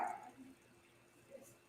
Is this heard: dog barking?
yes